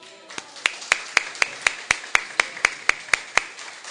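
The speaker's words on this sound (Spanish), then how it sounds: "le vamos a recibir con un fuerte aplauso" A single person claps in a steady, even rhythm at an indoor session greeting someone on their birthday, about a dozen crisp claps close by with no voices.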